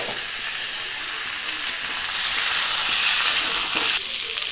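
Mixed vegetables and green chilies fry in a hot pan with a loud, dense, continuous sizzle that holds steady, swells slightly midway, then drops noticeably in level near the end.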